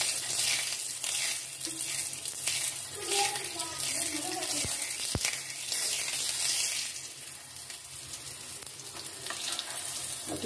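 Laccha paratha frying in a pan over low heat, a steady soft sizzle that runs throughout with no speech.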